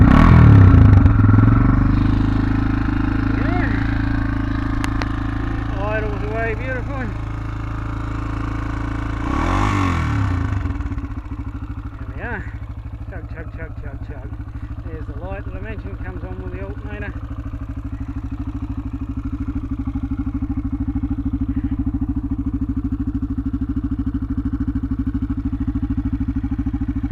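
A Honda XR250R motorcycle idles with a steady, low, throbbing hum that holds throughout, briefly louder at the start, while a voice talks faintly over it for a stretch.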